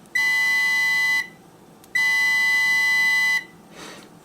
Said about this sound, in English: if I have continuity between these two probes, it's going to beep, just like this.